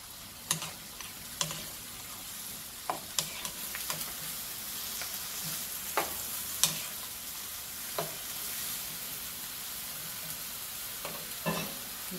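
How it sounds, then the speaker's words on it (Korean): Pumpkin stir-fried with onion and chili pepper in a pan, a quiet continuous sizzle broken by repeated sharp clicks and scrapes of a spatula at an irregular pace. "양파하고 고추를 넣어서 같이 볶아주시면 돼요."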